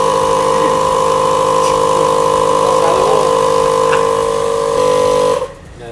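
A two-stroke engine in a 7.50 class race truck runs loud and steady at a held speed, with a strong even tone throughout, then suddenly cuts out near the end, leaving a quieter background.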